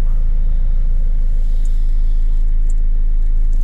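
A Renault Scenic 2 with the 1.5 dCi diesel engine idles, giving a steady, loud low rumble that holds level throughout, with no talking.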